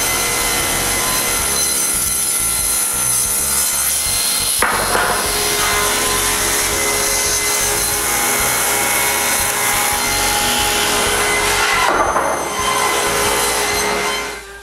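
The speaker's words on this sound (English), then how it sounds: "The last face is cut on the table saw." A table saw cuts the final face of a wooden piece for shop shelves, a sustained loud whine with sharp bursts where the blade engages and finishes the cut near the start and again toward the end.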